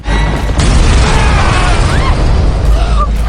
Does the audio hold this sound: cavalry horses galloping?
no